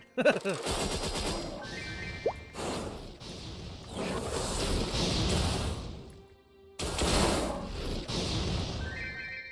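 Bursts of gunfire crackle in the MapleStory video game, with rapid automatic volleys and sharp whooshes separated by brief pauses, loud and close, with no voices.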